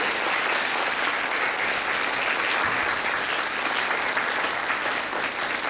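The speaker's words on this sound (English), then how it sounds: "I'd like you to give a round of applause for these very special guests that are here for you." A large audience at a Girl Scouts investiture ceremony gives guests a sustained round of applause, dense and even clapping that fills the room at a steady level without pause.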